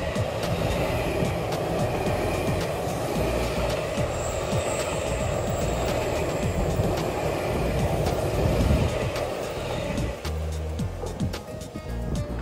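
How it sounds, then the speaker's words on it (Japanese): A Seibu Shinjuku Line Smile Train rolls past close by near Tokorozawa Station, a loud, steady rumble of wheels and carriages lasting throughout, with brief metallic squeals on top. "西武新宿線のね、スマイルトレインが来るみたいなんで撮ります"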